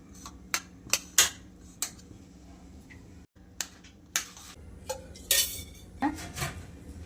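A knife chops a potato finely, giving irregular sharp taps and clicks against the cutting surface, close and fairly crisp, with no talking.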